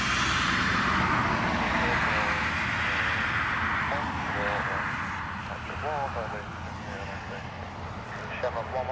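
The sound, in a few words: airplane taking off at Dublin Airport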